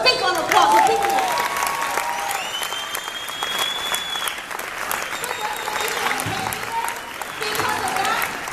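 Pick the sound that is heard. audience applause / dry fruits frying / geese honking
audience applause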